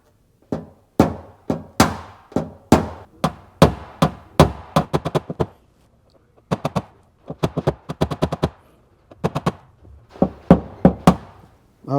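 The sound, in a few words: tapping dent high spots down with knockdown tool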